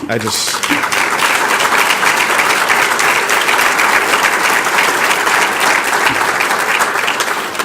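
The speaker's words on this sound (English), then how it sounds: "can I just get a clap for that?" An audience claps loudly and steadily at a community college event, a dense wash of applause filling the room after a student speaker's remark about nearly 30 years of dedication.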